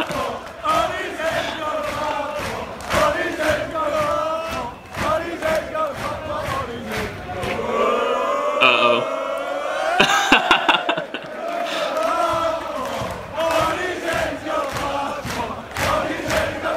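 A football crowd chants loudly in a stadium, many voices singing together in a sustained, rhythmic rise and fall with occasional laughter and shouts breaking through.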